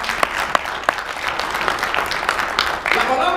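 Congregation applauding during a church sermon, a steady wash of clapping with sharp individual claps throughout, accompanied by speech.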